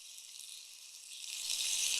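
Thin-sliced potato rounds fry in oil in a kadai, giving a soft, steady hiss that stays fairly faint, then swells slightly louder near the end.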